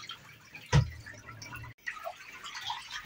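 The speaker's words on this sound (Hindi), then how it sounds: "ड्रेन बटन ऑन करेंगे तो इधर खाली होगा पानी" Dirty water drains out of a Godrej 8 kg semi-automatic washing machine. A sudden splash is followed by steady trickling and dripping, with a brief gap before the splashy flow resumes, all fairly close and moderately quiet.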